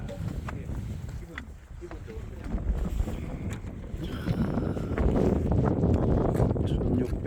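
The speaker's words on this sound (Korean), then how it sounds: "바람이 많이 붑니다" Strong wind on a mountain peak overlooking Jeju City buffets the microphone in rough, uneven gusts, growing louder and more blustery toward the end.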